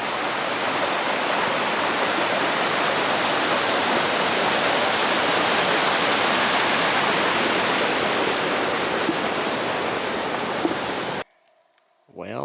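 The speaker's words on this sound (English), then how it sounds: "Here's Miners Creek again. Much further upstream than we were this morning." Miners Creek, a mountain stream along the Pacific Crest Trail, rushes in a loud, steady broadband roar close by that cuts off abruptly near the end.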